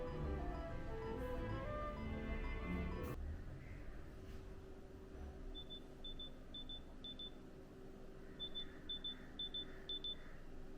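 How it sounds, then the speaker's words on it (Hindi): OnePlus Buds 3 earbuds emitting a find-my locating beep: short, thin, high beeps in quick groups of four, repeated twice, faint over a steady low background hum after an earlier louder passage. "तो आपके ईयरबड्स में एक बीपिंग साउंड बजना शुरू होगा"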